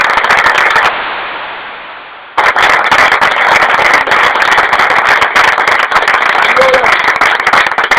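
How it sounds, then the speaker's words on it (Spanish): A lecture audience gives loud, crackly, clipped applause for T.E. Lawrence, with a brief fading dropout near the start before the dense clapping resumes at full strength. "pido al público un aplauso para T.E."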